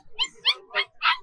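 A Belgian dog at a pet stall in the Bocaue tiangge market whimpers in four high, nasal yips spaced about a third of a second apart, close and clear with no talking.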